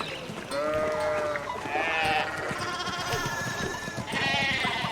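Sheep in the video game Pentiment bleat loudly and repeatedly, several overlapping wavering calls close by, with no talking.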